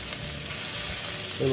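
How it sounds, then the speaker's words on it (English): Onions sizzle steadily in a hot pan, a close, continuous frying hiss with a brief louder flare at the end and no talking. "you want to cook the onions until it gets, I guess, super translucent"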